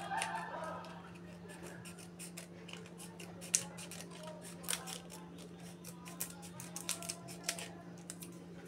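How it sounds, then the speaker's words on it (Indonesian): A pair of scissors cuts a used plastic drinking cup into small pieces, producing repeated crisp snips and clicks at an irregular pace, close and fairly quiet over a steady background hum. "Kemudian setelah seperti ini kita gunting kecil-kecil ya."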